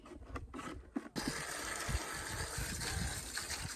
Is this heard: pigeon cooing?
no